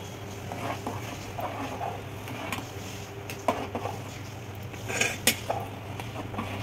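Rava kesari mixture stirred in a pan, a steady low scraping and rustle with a few light metallic clinks of the spoon against the pan, fairly faint throughout.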